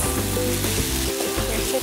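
Mendake noodles sizzle and crackle steadily as they are stir fried in a hot pan, a close, continuous frying hiss with a faint tonal hum underneath and no talk.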